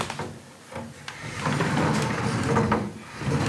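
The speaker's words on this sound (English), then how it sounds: "You can see it's all sliding doors everywhere." Wooden sliding doors in a Meiji-era farmhouse rumble and scrape as they are slid along their tracks, a few soft knocks breaking up the continuous rolling sound.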